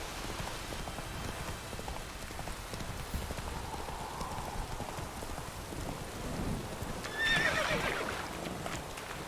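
Roach, a horse in The Witcher 3 video game, trots with steady clip-clopping hooves through falling rain. Near the end, a short, sharp neigh sounds up close.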